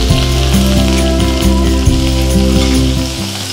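Mustard seeds, dried red chillies and curry leaves sizzling and popping steadily in oil in a pan, a loud close frying crackle with a low musical hum running underneath.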